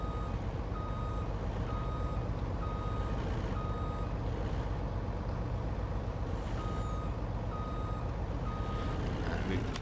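Steady reversing beeps pulse at an even rhythm from a cheap truck hauling a tanker in Farming Simulator 19, sounding over a constant diesel engine drone with occasional air hiss.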